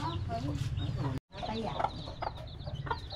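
Native chickens cluck nearby in a rural Ilocos Sur yard, with a few short, clear clucks and squawky calls over faint background chatter and a brief cut in the middle.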